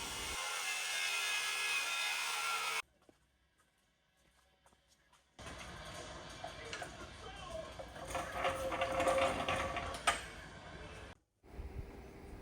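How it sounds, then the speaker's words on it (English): An old angle grinder cuts through the metal box flaps at the front rail of a derby car in a shop, a loud, steady, harsh whine that stops briefly and then resumes with rising scraping grind. "Cutting the flaps at the box to the front rail with the old grinder here."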